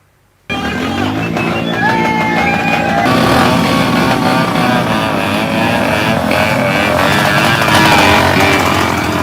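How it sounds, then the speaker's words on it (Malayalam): Off-road motorcycles ride over a broken, damaged road during a protest rally of about fifty bikes in Vellarakkad, a loud, dense roar of many engines revving together without pause after a brief quiet start. "തകർന്നു കിടക്കുന്ന റോഡിലൂടെ ഓഫ് റോഡ് ബൈക്ക് റൈസ് നടത്തിയാണ് വെള്ളറക്കാട് VFA അംഗങ്ങൾ പ്രതിഷേധം നടത്തിയത്"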